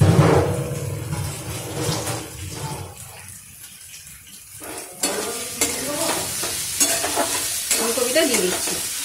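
Kohlrabi tipped into a pan already frying shrimp, with steady oil sizzle and stirring scrapes, a brief quieter lull midway, then louder crackling as the vegetable hits the hot oil.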